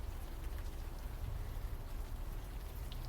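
Rain falls steadily in the video game Unavowed, a continuous soft wash of drops with a low rumble beneath, even and unbroken.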